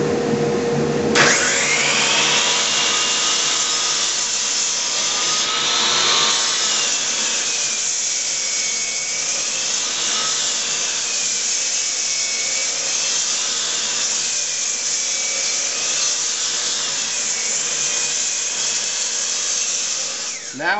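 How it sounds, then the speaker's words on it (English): Sliding compound miter saw with dust collection running cutting wood, a loud continuous high whine and rasp sustained for about twenty seconds, starting abruptly and cutting off at the end. "I'm using my sliding compound miter saw with dust collection"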